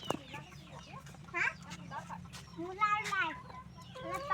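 Several local-breed chickens cluck and squawk close by on a poultry farm in quick, irregular bursts over a low background hum.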